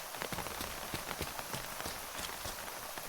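Rain patters steadily on surfaces in the video game Terminus, a dense, even hiss of drops with scattered louder taps, heard at low volume with no voices.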